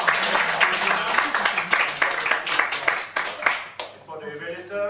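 A room audience claps for a presenter, a burst of fairly close clapping that tapers off near the end, with a voice talking partway through.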